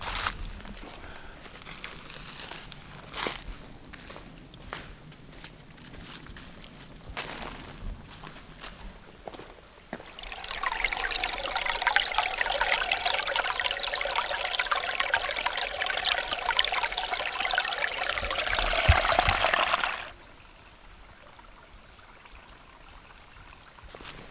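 Dutchman's Creek in Uwharrie National Forest trickles faintly beneath scattered footsteps and rustling, then a louder, steady rush of flowing water swells in for about ten seconds before dropping away.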